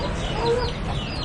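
Chickens cluck in Key West over a busy, noisy outdoor background, the clucks soft and partly masked.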